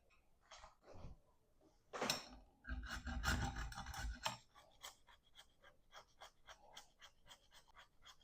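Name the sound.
grating chocolate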